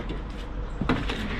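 A wooden cabinet door inside a converted van, trimmed down because it was not closing properly, shuts with a single short knock against a steady background hum.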